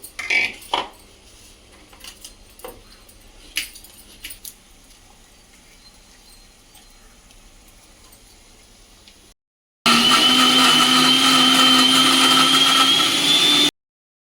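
A mixer grinder whirs loudly and steadily for a few seconds, grinding ginger and garlic into paste, after a stretch of faint kitchen clinks and taps.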